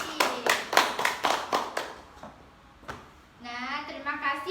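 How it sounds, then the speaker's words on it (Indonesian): Classroom applause for a student during a teaching session: a few seconds of quick, close hand claps from a small group, then a voice speaks over the fading claps. "Beri tepuk tangan untuk Sucianti"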